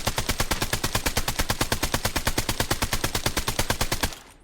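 Rapid automatic gunfire from a gun in the Blood Strike video game, hip-fired in a long, evenly spaced burst of loud sharp shots that cuts off abruptly.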